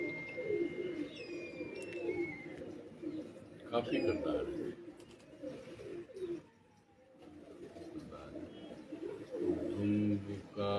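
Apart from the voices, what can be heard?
pigeons cooing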